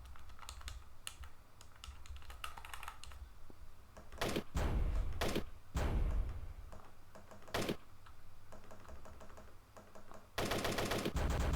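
Rapid gunfire bursts from a Nintendo DS zombie-shooting game, Erick Landon RPG, with several loud sharp volleys separated by quieter stretches of game sound and a dense burst near the end.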